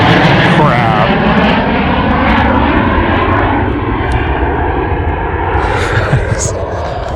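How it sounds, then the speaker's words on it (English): An F-35 fighter jet roars very low overhead above a remote Arizona lake. The engine noise is loud and fills the whole stretch, then fades slightly toward the end, and people speak over it. "The lowest jet I've ever seen fly over."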